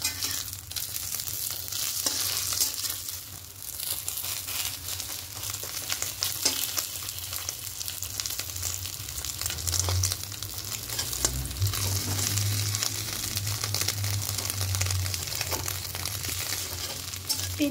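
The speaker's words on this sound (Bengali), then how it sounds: "এটা ভাজ করে নেব।" An egg omelette fries in a pan with a steady, close sizzle, broken by occasional stirring scrapes and a brief louder hiss as it is folded over.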